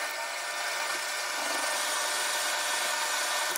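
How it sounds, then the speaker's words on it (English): A metal lathe runs under power feed with the tool cutting oiled stock, producing a steady bright hiss and scraping drone that holds even and close throughout, with no talk. "I'm going to start the lathe and turn on the power feed."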